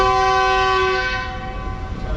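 A departure whistle from a train at Chaklala railway station in Pakistan, a long steady horn with strong harmonic tones that sounds loud at first and then fades slowly under continuous rumbling rail and station noise.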